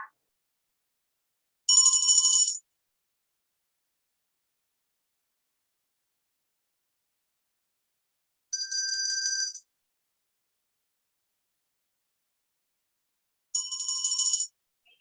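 Three separate bell strikes ring out clearly at a steady interval of several seconds during a quiet yoga breathing session, each a bright metallic tone with silence between them.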